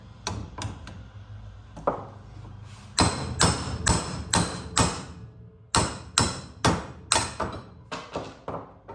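A series of sharp, hard hammer strikes on scrap metal in uneven bursts, close and loud, with short pauses between groups of blows.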